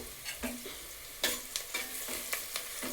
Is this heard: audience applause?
no